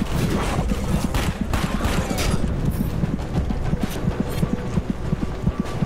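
Dense rapid gunfire in the video game Dark Sector, a continuous rattling barrage of overlapping shots with steady loud thumps throughout, close and unbroken.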